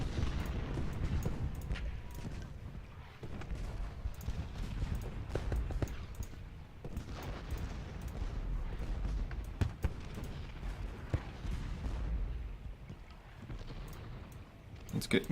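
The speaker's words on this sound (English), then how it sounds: "Let's try and be a bit more aggressive with my artillery." Booming artillery fire from Civil War cannon batteries in Ultimate General: Gettysburg, a battle strategy game, rumbling with repeated low blasts through a continuous battlefield din while someone talks over it.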